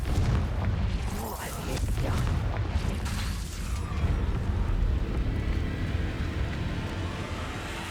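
Confringo spell blasts in the game Hogwarts Legacy rumble as deep booming explosions over a dense battle din, several bursts rolling into one another, loud and close, with game noise running underneath.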